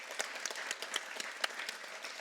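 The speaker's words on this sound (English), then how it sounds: "Give them a round of applause." Fourth-grade pupils and audience at a school celebratory assembly give a round of applause, scattered individual claps standing out in a moderately sized, fairly distant crowd.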